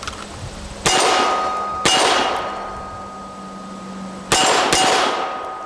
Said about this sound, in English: you can hear when I hit the A zone, that audible ring